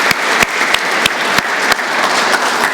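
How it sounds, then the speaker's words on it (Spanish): A church congregation claps steadily in praise, a dense, loud wash of applause with sharp individual claps standing out, no talking over it. "Dale un aplauso a Dios"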